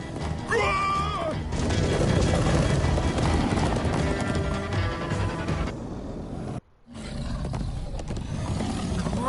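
Galloping horses in the Minecraft Story Mode video game, with dense, continuous hoofbeats under a loud, busy game soundtrack that drops out briefly near the end.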